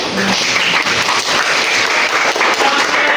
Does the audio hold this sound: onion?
no